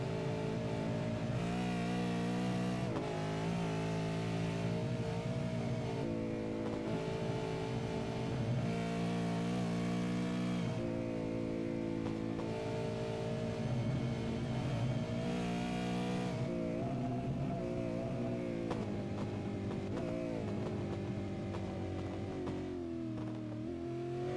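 V8 race cars racing at Bathurst in an East Coast V8s round: a steady, loud engine roar with shifting pitch as cars rev and pass, continuous throughout with no talk.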